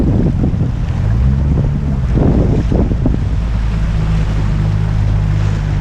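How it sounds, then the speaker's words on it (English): Wind roars steadily across the microphone while a wave surges and washes behind a sailing dinghy running downwind in swell. The sound is loud and continuous, with no one speaking. "Big wave coming behind you now."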